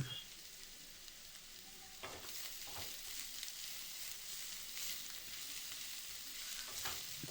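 Keerai (spinach greens) stir-frying in a pan in a village kitchen, a steady broad sizzle with scattered scraping stirs throughout, no voices.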